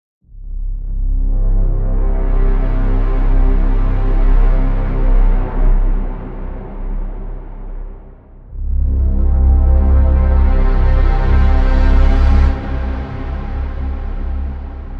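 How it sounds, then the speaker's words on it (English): Two long cinematic braams built from layered brass samples and synthesizers swell in one after another, deep, loud and blaring, the second rising brighter before falling away, with no talking. "This cinematic Braam sound is not difficult to make. All you need to do is layer brassy sounds, including brass samples and synthesizers"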